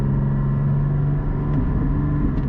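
A Porsche GT4 sports car driving on a winding road, its engine droning steadily close by with a low, even rumble and a shift in pitch partway through as the revs change; no talking.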